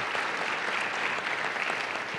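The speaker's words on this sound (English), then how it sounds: "Jim requires a round of applause real quick." Audience at a campus address for a presidential candidate gives a steady, dense round of applause, sustained at even loudness throughout.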